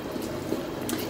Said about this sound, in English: now I'm going to add the wet ingredients in there